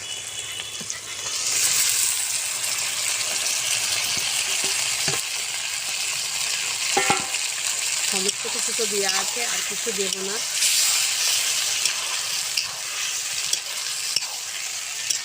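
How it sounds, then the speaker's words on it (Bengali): Spiced local castrated goat meat sizzles and hisses steadily in a pan while being stirred, with a few scraping knocks, as someone talks over the cooking in the middle. "এই যে সমস্ত কিছু দিয়ে সুন্দর করে কষাচ্ছি"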